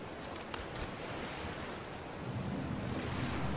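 Steady rushing water of a waterfall in the game ARK: Survival Evolved, a constant broadband roar with no talk over it.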